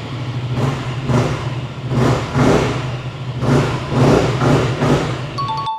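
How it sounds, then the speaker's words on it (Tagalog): A Honda ADV350 or Yamaha XMAX300 scooter on its stock exhaust revving up in several loud blips from a steady low idle, each rising and falling, heard close with no talking. "i-sound check na rin natin kung ano yung tunog nila. Mga stock pipe nila"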